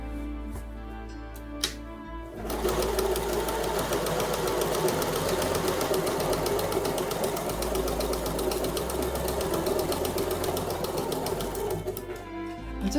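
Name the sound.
sewing machine stitching half square triangle quilt pieces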